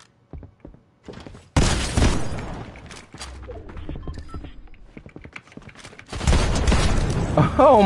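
Rapid bursts of gunfire from an online shooter match, loud sustained volleys starting near the two-second mark and again toward the end, with scattered single shots and talk in between.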